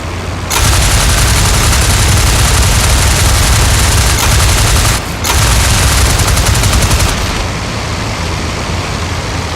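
Sustained, loud aircraft machine-gun strafing fire from IL-2 Flying Circus in VR, a dense rattling stream of rapid shots with a brief pause near the middle before the burst resumes, no voices.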